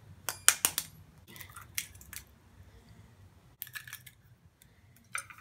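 An egg is cracked into a bowl for shrimp tempura batter, making a few sharp, close cracks and taps. Quieter clicks and a soft squish follow, with near silence in between.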